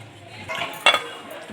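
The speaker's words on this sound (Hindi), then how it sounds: "अब ये मैं इसमें अच्छी तरह मिक्स करूँगी।" Russian salad being mixed with cream and mayonnaise in a bowl, giving a short cluster of spoon-on-bowl clinks and scrapes in the middle, with quieter handling sounds before and after.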